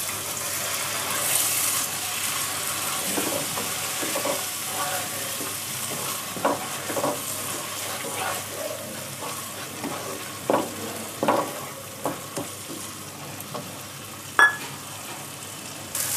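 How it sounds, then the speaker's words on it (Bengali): Spice paste for shahi paneer sizzles steadily in a hot pan after a little water is added. Scattered stirring scrapes and clinks rise above the close, continuous frying hiss. "মশলাটা যাতে পুড়ে না যায় তার জন্য একটু জল দিয়ে দেব।"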